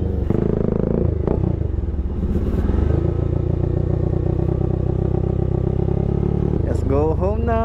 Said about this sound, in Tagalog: Sarap ng big bike niya, sarap ng tunog.